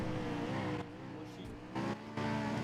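A car engine drones loudly and close, its level swelling and dipping as the vehicle moves along the road.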